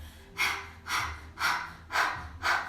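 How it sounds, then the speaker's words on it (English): Rhythmic breath of fire panting through the mouth with the tongue out during a kundalini yoga kriya, five sharp forceful exhales about every half second, close and clear with no talking. "we'll continue our breath of fire with the tongue out"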